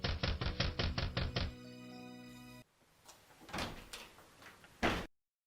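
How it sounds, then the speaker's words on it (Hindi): A run of about seven quick, evenly spaced knocks on a door in a staged Christmas dance drama scene, followed by sustained tones and a few softer thuds. "यूसुफ ने मदद के लिए किसी का दरवाजा खटखटाया।"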